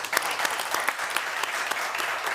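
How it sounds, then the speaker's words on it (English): Applause from an audience at a healthcare resilience morning event rings out for the event hosts, a brief burst of steady clapping at moderate distance with no speech over it. "if we just give them a round of applause"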